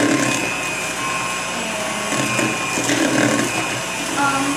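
Electric mixer whirring steadily through cookie dough, a constant close motor drone with slight swells in load and no clear talk.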